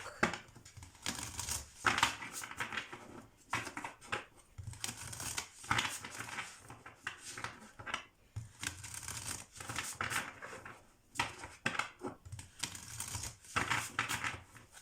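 Quick bursts of crisp riffling and flicking, repeated in rapid waves, close by, as tarot cards are shuffled again and again with no one talking.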